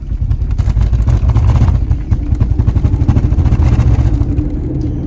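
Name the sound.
Dodge Magnum driveshaft clunking while driving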